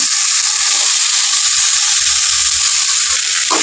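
Peanuts fry in hot tempering oil for Bijapur hotel-style avalakki uppittu (poha upma), giving a steady, loud, close sizzle that holds evenly throughout with no talking.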